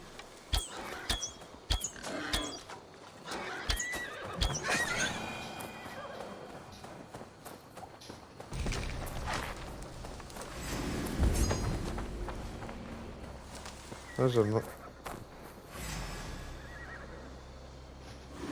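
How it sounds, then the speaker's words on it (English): Hooves clatter at a gallop amid rumbling action noise in Assassin's Creed Valhalla, and a horse lets out a shrill whinny toward the end; a voice briefly speaks. "that sounds like the horse is having a bad time"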